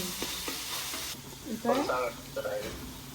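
Tomatoes sizzle and fry in a pan while being stirred and mashed, soft scraping strokes over a gentle hiss, with someone speaking over the cooking.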